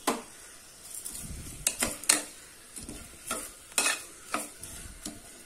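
Tomatoes are sautéed and stirred in a pan with mint leaves and salt for vegetable masala rice, giving a soft sizzle with repeated scraping strokes of a spoon against the pan, close by.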